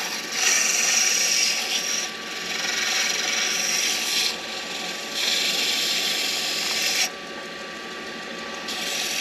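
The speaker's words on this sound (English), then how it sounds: "I'm gonna try to smooth it out, sand everything in, and we'll do our finish on it." A handmade pen is being power-sanded, giving a loud, steady high-pitched abrasive whir that swells and drops in several bursts, with brief pauses between passes.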